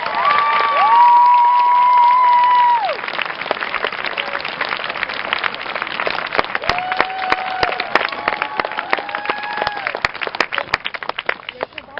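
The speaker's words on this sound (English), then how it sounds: "Please give everybody a final round of applause." A graduation crowd at Mahar Regional School in Orange, Massachusetts gives a final round of applause and cheering. A sustained, moderately loud wash of clapping runs throughout, with shouts, whistles and voices over it and sharp claps standing out later.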